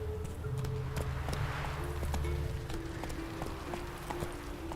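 Roach the horse galloping in The Witcher 3, a steady run of hoofbeats with a faint whinny, over a low droning game soundtrack.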